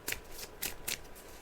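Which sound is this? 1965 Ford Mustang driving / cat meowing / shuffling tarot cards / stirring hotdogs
shuffling tarot cards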